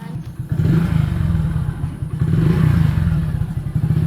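A motorcycle engine runs close by at a steady, loud rumble with slight revving and a brief clatter as it starts off, with no talking.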